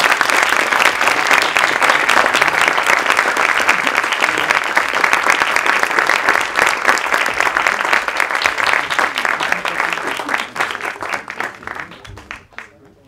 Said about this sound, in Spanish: quiero pedir un gran y enorme aplauso a nuestros invitados tan generosos y tan chidos